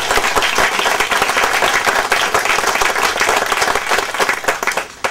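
Loud, dense applause from an audience at the St. Aidan dedication ceremony in Brookline, Massachusetts, sustained steadily throughout with a slight easing near the end.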